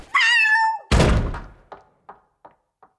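A cat meows in a Barbie and The Three Musketeers story CD, one clear drawn-out meow followed by a heavy thunk like a door shutting, then a few fading knocks.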